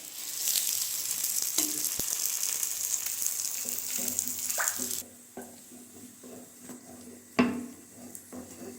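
A parotta fries in oil on a pan, a bright sizzling hiss that drops quieter midway, broken by a few utensil knocks and a sharp clatter near the end.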